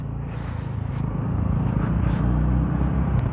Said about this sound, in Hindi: अभी बहुत ट्रैफिक लगा हुआ है